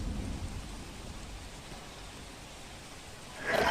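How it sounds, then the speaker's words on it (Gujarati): Heavy, unbroken rain pours over flooded Manavadar in Junagadh district, a dense steady hiss of downpour that swells louder in the final moments, with no voices. "અવિરત બે થી ત્રણ દિવસથી વરસાદ પડી રહ્યો છે"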